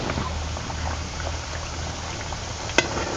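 Masala toast bread slices fry in hot oil with a continuous dense bubbling hiss, steady and close, plus one brief sharp click near the end.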